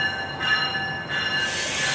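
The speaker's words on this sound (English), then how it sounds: "here's cab car V712 leading the train" A VRE commuter train passing with cab car V712 leading, heard from above: steady rolling rail noise with a high wheel squeal, then a brighter hiss swelling as cars go by.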